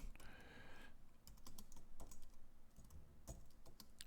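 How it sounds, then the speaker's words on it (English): Typing on a computer keyboard while entering text into a text editor, with steady clicking keystrokes and a few sharper taps, close and fairly quiet with no talking. "Text editor, type in your information."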